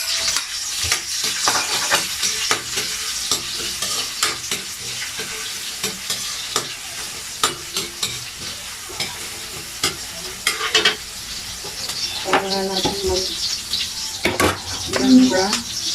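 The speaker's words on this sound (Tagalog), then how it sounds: "So, gisa-gisa muna tayo. Nagigisa na po natin." Garlic, ginger and chicken pieces sizzle as they are sautéed in a pan, with steady frying crackle and repeated scraping stirs of a utensil, while occasional brief sounds of people talking come through.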